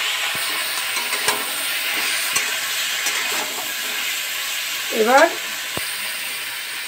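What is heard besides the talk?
vegetables for bottle gourd shukto cooking in a pan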